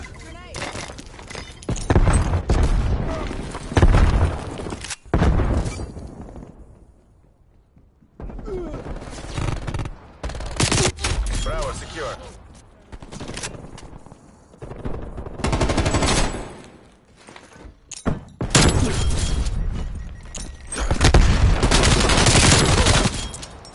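Automatic gunfire in a PS5 shooter game, with long, loud bursts of machine-gun fire and scattered shots that stop and start over about twenty seconds, under occasional talking.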